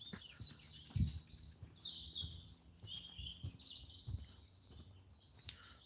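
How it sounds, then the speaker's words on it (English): Birds chirp and twitter on a morning walk: busy high-pitched calls overlapping almost constantly and fairly near, over faint low footstep-like thumps and background noise. "I don't know if you can actually hear the birds. They are very, very loud this morning, chirping as they are away."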